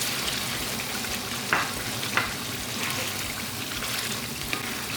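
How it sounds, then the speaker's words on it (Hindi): Chicken karahi sizzles and fries steadily in a pan, lemon juice added, with a continuous close hiss and a few brief scraping stirs; no talking. "2 से 3 मिनट इसको भूनेंगे"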